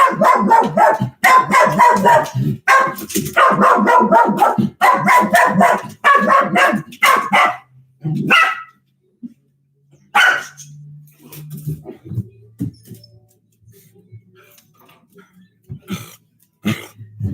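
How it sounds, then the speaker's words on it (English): An aggressive dog barks loudly in rapid, repeated bursts at a package delivery for about eight seconds, then gives a few scattered later barks amid quieter pauses and low rumbles. "My dog is aggressive, and we have somebody delivering a package. So she's going to be a maniac."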